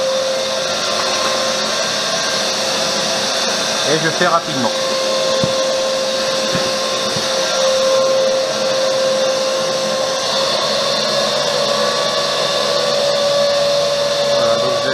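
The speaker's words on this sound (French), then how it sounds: "J'arrête l'aspirateur, j'arrête le four." A vacuum cleaner drones steadily and loudly throughout while a rhodoid canopy for an RC plane is shaped, with a person talking briefly over the constant whine.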